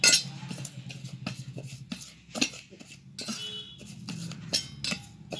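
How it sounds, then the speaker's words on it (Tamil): A spoon works a homemade face scrub paste around a bowl, giving repeated light clinks and scrapes against the dish in an uneven rhythm, close and fairly quiet, with no talking. "கொஞ்சம் கொஞ்சமாக ஊற்றி இப்படி மிக்ஸ் பண்ணிகிட்டே இருங்க"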